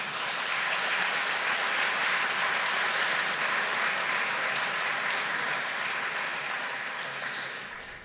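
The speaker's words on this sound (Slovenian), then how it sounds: "Prosim še aplavz." Awards ceremony audience applauding, a dense steady wash of many hands clapping that holds for several seconds and slowly fades toward the end.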